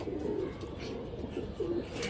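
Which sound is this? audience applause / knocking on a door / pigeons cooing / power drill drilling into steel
pigeons cooing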